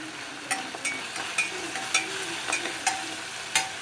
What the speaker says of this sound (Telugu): కొద్దిగా 2 నిమిషాలు ఫ్రై చేసుకుందాం